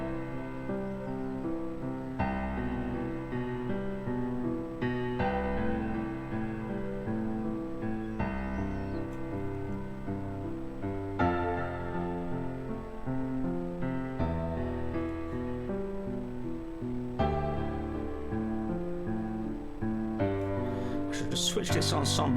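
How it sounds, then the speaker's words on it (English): Chilled, gentle piano mood music programmed in Logic Pro X, with sustained chords that shift every couple of seconds over a soft bass line and play steadily with no voices. "I wanted this kind of really chilled, nice bit of piano music to go with it."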